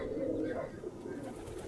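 Pigeons cooing in Santorini, a low soft rolling coo that sits close and steady, strongest at the start before tapering slightly.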